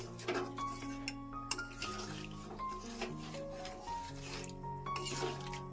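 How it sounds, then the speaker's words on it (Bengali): Mutton being stirred in a pot with water just added, for a spiced meat curry: soft clinks of a spoon against the pot and wet sloshing that run steadily under a continuous low hum. "জল দিয়ে আমি এটা কিছুক্ষণ নাড়িয়ে চাড়িয়ে নিচ্ছি"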